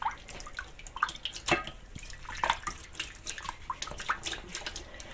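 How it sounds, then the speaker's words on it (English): A stirring spoon rinsed under a running kitchen tap while cooking, with close, soft splashing and dripping of water broken by a few brighter clinks and splashes, and no talking. "Wash off my stirring spoon."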